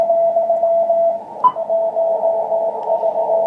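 W1AW amateur radio signal on the 18 MHz band, received on an Icom IC-746 Pro: a steady, moderately strong tone holds for the whole stretch over a constant bed of band hiss, with one brief blip midway.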